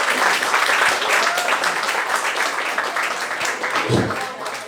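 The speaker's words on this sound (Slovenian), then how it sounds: "dajmo aplavz za oba!" Audience applause fills a roast battle crowd in a steady, dense wash of clapping that holds at a loud level throughout, with crowd noise mixed in and no pause.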